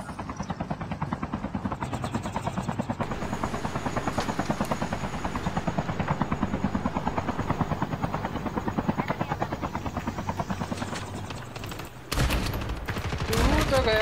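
A helicopter in the Call of Duty: Mobile video game thrums with a loud, steady rotor chop throughout, with bursts of gunfire over it, then a sharp change near the end as the noise surges.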